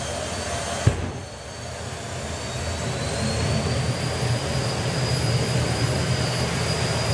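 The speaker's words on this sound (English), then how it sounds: "Here we go then as Martin and Julian bring up the two jet dragsters. The pops and bangs going to get a little bit louder" Two jet dragsters at the FIA/FIM Euro Finals 2025 drag race produce a loud, steady, broad jet roar that builds slightly after a brief sharp pop near the start, with no talking.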